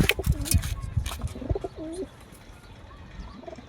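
Pigeons drinking water in Bela, Botad, Gujarat coo nearby in a few soft, throaty rolling calls, with scattered knocks and bumps early on before it quiets.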